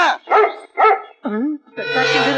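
A dog barks three or four times in quick succession, close and loud, with a voice blending in toward the end.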